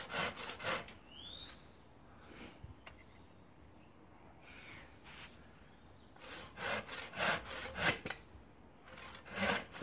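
A hand saw cuts through a small wooden log on a wobbly bench: bursts of rasping strokes in quick rhythm, close but fairly quiet, with a pause in the middle.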